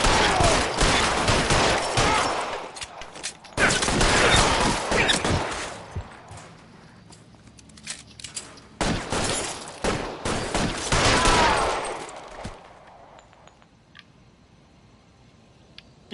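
Heavy bursts of gunfire during an L.A. Noire shootout, loud volleys of shots in several waves separated by quieter gaps, fading toward the end.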